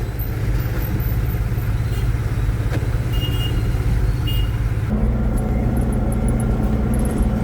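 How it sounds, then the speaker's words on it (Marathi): Vehicles idle at a red signal at a city junction, a loud steady engine rumble with an irregular low throb, a faint beeping and a shift in the engine note partway through. "लाल दिवा असल्यामुळे सर्व गाड्या थांबलेलं"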